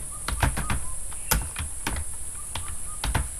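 Numbers being typed on a computer keyboard, a series of close, crisp key clicks in irregular bursts with a steady high whine underneath.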